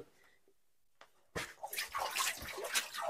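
Water in the Gupt Ganga tank at Ranthambore Fort: near-silence, then a sudden loud rush of splashing, churning water that continues to the end.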